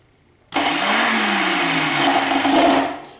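A Honda Goldwing motorcycle with the choke on, not run for a few days and with a troublesome starter, bursts into a loud mechanical whirr with a falling whine that holds for over two seconds, then fades, without talking.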